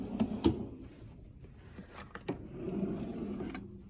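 A kitchen cutlery drawer holding soup spoons, tablespoons and dessert spoons slides and knocks, with several short rattling clunks and rolling scrapes close by.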